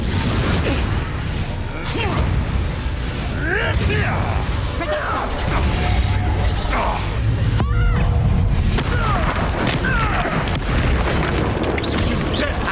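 Repeated Confringo blasts in a Hogwarts Legacy battle produce heavy, booming explosions. Whooshes, clattering mechanical impacts and crackling bursts come in rapid succession, with game voices breaking in now and then over the constant loud combat din.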